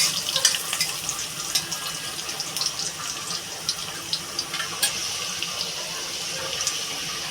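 Garlic fries in hot oil with a continuous crackling sizzle and scattered sharp pops, close and steady throughout, browning before a fish-bone curry is added.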